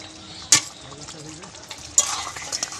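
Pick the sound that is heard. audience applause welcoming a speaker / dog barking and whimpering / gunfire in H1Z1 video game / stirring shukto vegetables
stirring shukto vegetables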